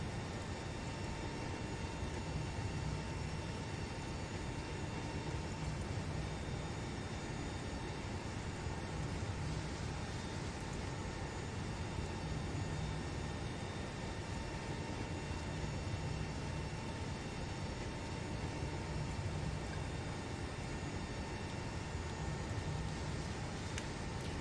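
A Flight Factor A350 airliner in a flight simulator with the Mango Studios sound pack, a steady, unbroken cabin and engine drone with a faint high whine, even and constant throughout, with no talking.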